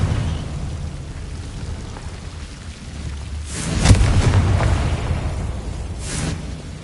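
A Confringo fire spell explodes in the Hogwarts Legacy game, a muffled rumbling boom swelling up out of steady background noise with a fainter second burst shortly after.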